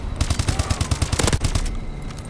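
Rapid automatic gunfire from Call of Duty: Advanced Warfare: loud bursts of closely spaced shots for about a second and a half, then an abrupt stop.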